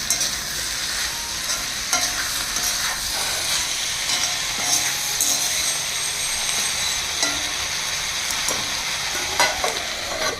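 Raw prawns fry in salt over a steady, loud hiss of oil while a spoon scrapes and clicks in irregular strokes through the pan, with no talking.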